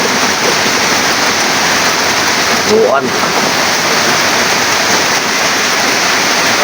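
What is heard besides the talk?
heavy rain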